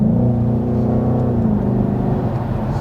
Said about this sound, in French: Cette petite sonorité bien grasse V8 américain, tu l'entends, elle est là.